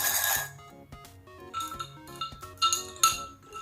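A mixture is stirred in a container, giving light, irregular clinks and taps close by at low volume. Faint music plays underneath.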